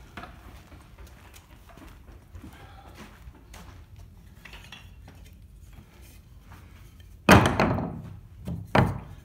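A wooden wedge is knocked into place during stone carving work, giving a few loud, sharp knocks near the end of a quiet stretch, close and distinct.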